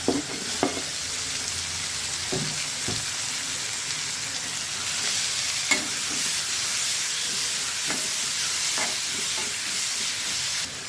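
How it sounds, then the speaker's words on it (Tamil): Onions, green chilies and tomatoes sauté in a pan for an egg curry, giving a steady close sizzle and hiss. Occasional soft spoon scrapes and stirring clicks rise above it, and no one speaks. "இப்போ இதை நல்லா வதக்கிக்கலாம்"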